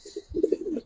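A Giribaz pigeon gives a short, soft burst of low cooing, faint and close, with no voices over it.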